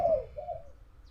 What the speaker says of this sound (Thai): ฟังเสียงนกเขาขันตอนนี้เที่ยงครับ